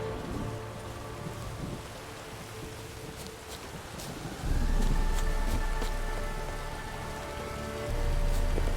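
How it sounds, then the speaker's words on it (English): Heavy thunderstorm rain from The Witcher 3, a steady broadband downpour with a low rumbling surge of thunder rolling in halfway through and swelling again near the end, with no voices. "A storm, damn it."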